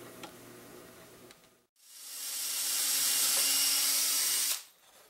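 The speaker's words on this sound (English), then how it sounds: "it has to be finished with a drill" A power drill whirs up and bores steadily through wood for a few seconds with a loud hissing grind, then stops, leaving quiet background hum.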